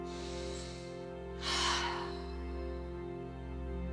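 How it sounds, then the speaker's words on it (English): A single forceful, exaggerated breath rushes out once over a low steady hum, short and close, then quiet returns. "I like to make sound with the breath"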